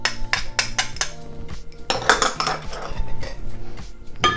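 A spoon folds cilantro and lime juice into cooked rice in a bowl, making repeated clattering scrapes and clinks of metal against the dish in an uneven rhythm, with no voices.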